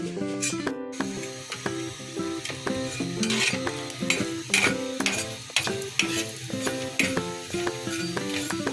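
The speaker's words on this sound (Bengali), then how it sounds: "মরিচ পেস্ট আমি একটু দিয়ে নিই" Chili paste frying and being stirred in a pan for a shutki bhorta dish, a steady sizzle with repeated scraping and clinking strokes of a utensil against the pan, fairly close and continuous, with no talk.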